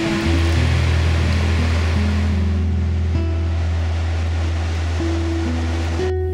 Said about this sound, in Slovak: Tie vlny.